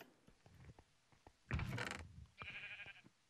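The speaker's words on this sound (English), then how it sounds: "Oh, it's a sheep." A sheep in a blocky puzzle adventure game gives a short bleat, followed by a second, higher and longer one, over faint clicking and tapping, with no talking.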